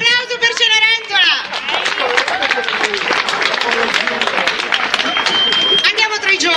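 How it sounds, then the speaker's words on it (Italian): Theatre audience at a summer town-hall drama course performance in Ottone, Italy, gives sustained applause for the actor playing Cinderella, dense clapping with cheers and chatter mixed in throughout. "Un applauso per Cenerentola."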